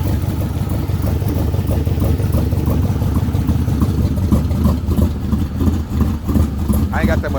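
An LS-swapped 1964 car's engine idles close by with a steady low rumble, while people talk over it and a brief higher whine rises near the end.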